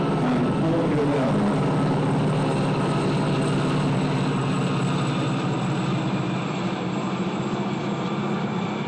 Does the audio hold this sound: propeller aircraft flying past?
yes